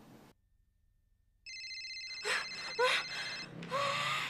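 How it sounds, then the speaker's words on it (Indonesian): A telephone rings for a call-in line on a TV show, a bright electronic ringtone with steady repeating tones starting abruptly after near silence, joined by brief background sounds. "sekarang kita buka line telepon"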